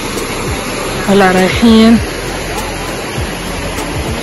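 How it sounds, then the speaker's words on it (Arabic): Steady rushing roar of a waterfall at Yahshoush falls fills the whole scene at an even level, with people talking over the constant water noise. "اوه اوكي، هذا الشلال."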